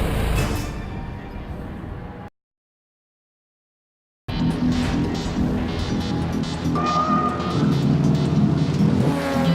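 A Plymouth Neon endurance race car runs at Laguna Seca, its engine droning loud and steady with a brief gap of silence, then resuming with shifts and passing road noise.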